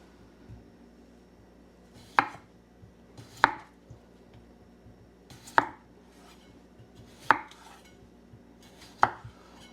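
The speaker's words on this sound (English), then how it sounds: "So now all we gotta do is chop." Knife chopping washed potatoes on a cutting board: five sharp, distinct chops spaced a second or two apart, each a crisp near thud with a short tail, over quiet room background.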